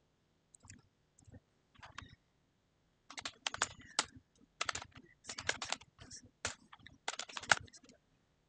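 Keys clatter on a computer keyboard while text is entered in a design program. The sound comes in irregular bursts of rapid clicks, a few sparse taps first and then denser runs. It is close, fairly quiet and heard alone.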